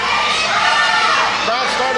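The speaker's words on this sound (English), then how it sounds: "Crowd's starting to get behind him now" Wrestling crowd at a CWF Mid-Atlantic match, a loud, dense roar of cheering and shouting, with voices mixed in.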